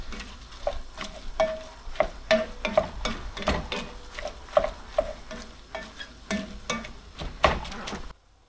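Ground meat for lasagna being stirred and broken up into fine bits in a hot pan, with repeated close scraping and clacking strokes of the utensil over a steady sizzle of browning meat.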